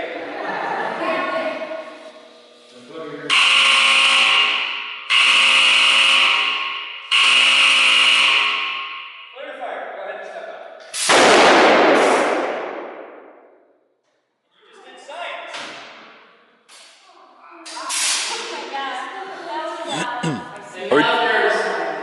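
A capacitor bank discharged through a scrap of window screen: after a series of loud buzzing alarm tones comes a single sharp, broadband bang that decays quickly, followed by further tones and voices speaking.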